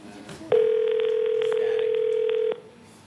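A telephone rings once during a live call on a television talk show, a single loud electronic tone held for about two seconds, with quiet room sound before and after.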